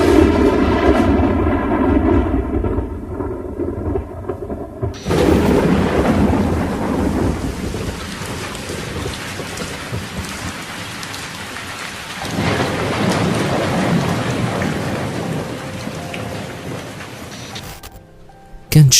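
Heavy rain pours steadily with rolling thunder rumbling through, a loud, dense storm soundscape that swells and shifts in intensity before cutting off abruptly near the end.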